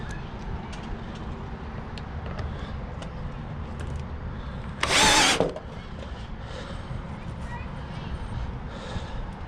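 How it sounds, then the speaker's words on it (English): A power drill whirs in one loud, short burst of about half a second during house gutter installation with strap hangers, set against steady outdoor background noise. "Let me get that drill one more time."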